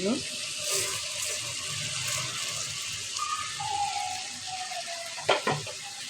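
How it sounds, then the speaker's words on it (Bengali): Rice and lentils going into spiced oil in a pot for bhuna khichuri, a soft sizzle and rustle with a few louder clatters near the end, fairly quiet. "এখন আমি চাল ডালগুলো যেটি একসাথে রেখেছিলাম সেগুলো আমি এখন দিয়ে"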